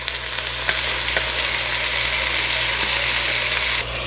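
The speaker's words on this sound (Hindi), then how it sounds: "अब हम अच्छे से टमाटर को भूनेंगे।" Finely chopped tomatoes frying in a pan for dhaba-style chicken masala, a steady loud sizzle throughout with a low hum underneath and a few faint stirring clicks.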